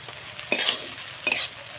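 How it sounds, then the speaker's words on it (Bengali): Spice paste with chili and tomatoes sizzles in a pan for a fish curry, with a steady fry beneath two sharp spoon scrapes about a second apart, close and alone. "মশলাগুলো এবারে ভালো করে আমি কষিয়ে নেব টমেটোগুলো দিয়ে দেব"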